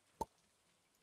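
Voice imitating a cork popping out of a wine bottle: a single short, hollow mouth pop, close and isolated, followed by near silence.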